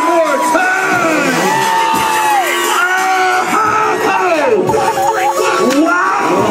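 A crowd cheers, yells and whoops loudly at a freestyle motocross show, with overlapping shouts and drawn-out bellows rising and falling in waves.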